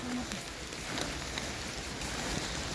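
Steady rain falls across the leafy paths of Batumi Botanical Garden in Georgia, an even close hiss of drops on surfaces that runs through the whole moment with no voices.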